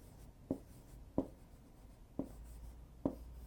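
Marker or chalk tapping and scratching on a board during a math lesson, four short distinct strokes at a steady pace, close and fairly quiet with no one talking.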